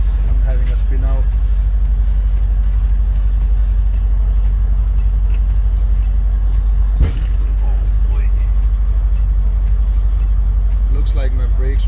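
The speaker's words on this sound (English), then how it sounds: "I'm trying to pull out and it's spinning. I'm having a spin out." A truck's wheels spin out on snowy, slippery pavement as it tries to pull away, a heavy steady engine drone with revving throughout and a sharp knock near the middle. A person talks over it.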